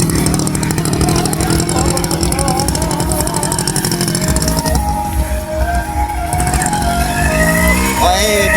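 A motorcycle engine runs steadily up close during a riding lesson, a continuous throb that shifts pitch as the bike changes gear, with an instructor's voice talking over it.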